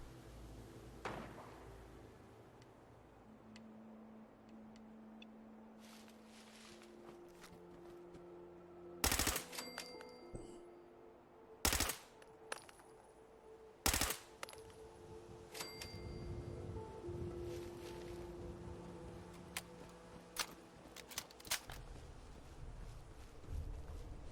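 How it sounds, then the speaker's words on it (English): Pipe submachine gun in Fallout 4 fires in sharp bursts, a few loud cracks standing out over ongoing game ambience and hum, with scattered fainter shots and clanks throughout. "this pipe submachine gun that I'm using is as powerful as it is because it has a custom legendary effect on it"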